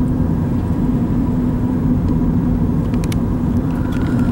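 Steady low engine rumble and road noise from a car driving through Zion National Park in Utah, continuous and close, with faint ticks near the end and no talk.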